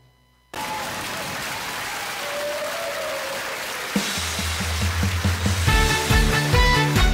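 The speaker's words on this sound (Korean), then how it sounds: "박수 주시기 바랍니다." Studio audience applause at a televised Korean trot music show, a steady wash of clapping that starts abruptly and continues as band music rises beneath it.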